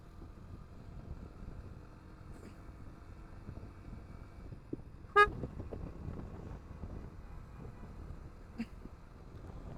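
Traffic rumbles and hisses faintly under wind noise on a road, with one short, sharp car horn honk midway and a fainter toot later.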